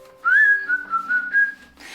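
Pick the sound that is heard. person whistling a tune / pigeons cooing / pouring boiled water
person whistling a tune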